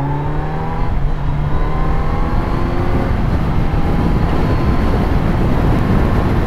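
Kawasaki Z900 2023 motorcycle accelerating at full power on the road, engine note climbing and then settling into a loud, dense roar that stays close and continuous, no talking over it.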